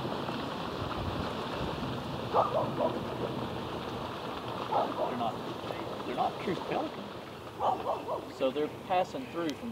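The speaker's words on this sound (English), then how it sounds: "you can hear a dog barking in the distance and the birds as they're flying" A dog barks several times in the distance, in short separate bursts. The barks sit over a steady outdoor wash of wind or water where American white pelicans are feeding.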